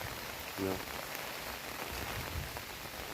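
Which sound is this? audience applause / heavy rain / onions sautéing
heavy rain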